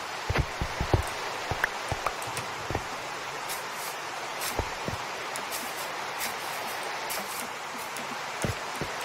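Rain falls steadily in a Minecraft game world, a constant soft hiss with scattered sharper drop ticks throughout, fairly close and without voices.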